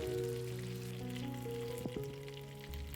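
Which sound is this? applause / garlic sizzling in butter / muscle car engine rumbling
garlic sizzling in butter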